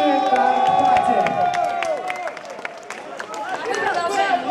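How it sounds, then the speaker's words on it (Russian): An audience at an awards ceremony at Arena Moscow claps and cheers in a dense, continuous burst, with a voice over a PA and music playing alongside the crowd noise. "Аплодисменты!"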